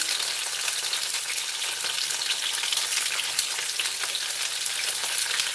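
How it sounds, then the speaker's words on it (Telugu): Slit green chillies frying in hot oil in a pan, giving a loud, continuous sizzling hiss with fine crackles and no voices. "పచ్చిమిర్చి ఇట్లా చీల్చుకున్న పచ్చిమిర్చి వేసేసుకోండి"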